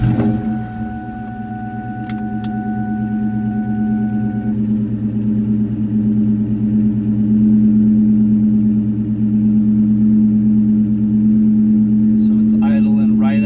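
A 1999-2004 New Edge Ford Mustang engine idles steadily at about 1,000 rpm, heard from inside the car as a continuous low hum with a faint click or two near the start.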